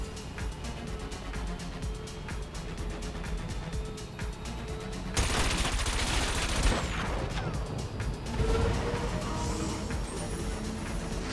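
Rockets and a missile fired during a futuristic anti-gravity race in Wipeout Omega Collection, a sudden loud whooshing blast over a steady engine drone and pulsing music.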